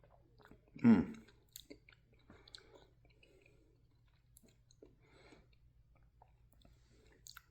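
A single close crunchy bite into baked breaded fish topped with Scotch Bonnet mustard sauce, followed by quiet soft chewing in an otherwise silent room.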